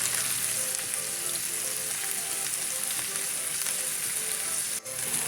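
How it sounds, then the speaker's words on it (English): Carne asada frying in a pan for a breakfast hash and steak burrito, a loud, steady sizzle close up with a brief stir near the end and no talk. "And it does fry up nicely with meat and stuff."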